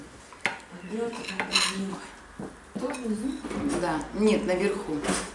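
Forks and cutlery clinking against dishes as they are pulled out in a home kitchen, with repeated close metallic clatters while people talk throughout.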